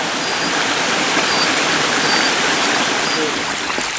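A creek runs near a cave at Devil's Den, Arkansas, a loud, close, steady rush of flowing water that fills the whole moment without pause.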